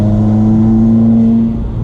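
A 2016 Subaru WRX with a Stage 2 tune pulls hard in fourth gear, a loud, steady engine drone heard from inside the car over under two seconds, easing off at the end.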